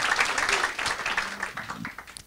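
Audience applause fills the hall at the 2017 Michael Bruno Memorial Awards ceremony, a dense, steady wash of many hands clapping that tapers off near the end, with faint murmurs underneath.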